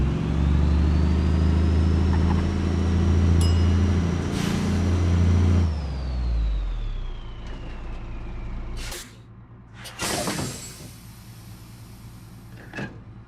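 A bus engine in a video game roars steadily and loud for several seconds, then drops away, followed by hissy air-brake and mechanical bursts, with no voices.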